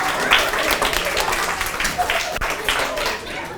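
A middle school audience applauding during a drama performance, brisk uneven clapping from a crowd with a voice speaking over it near the start.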